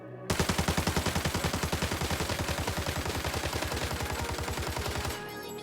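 An FAL rifle fires in the video game Arena Breakout as one long, rapid full-auto burst of evenly spaced, loud shots lasting about five seconds, then cuts off abruptly.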